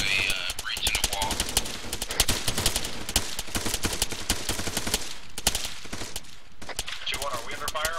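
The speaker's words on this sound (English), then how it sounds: "Sanders, what are you shooting at?" Sustained automatic and rifle fire during a Marine platoon training exercise, dense overlapping bursts of shots, close and loud, with voices on a radio net talking in between.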